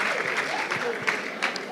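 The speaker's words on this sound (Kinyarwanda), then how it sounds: "muhe amashyi polisi y'u Rwanda" An audience clapping for the Rwanda police, a short burst of dense applause heard mixed with a voice speaking over it.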